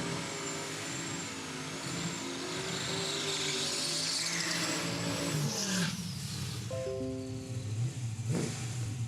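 A 1972 Chevrolet Vega and a 1964 Ford Falcon drag racing at a raceway, loud engines roaring and revving continuously, with a sharp shift in tone partway through.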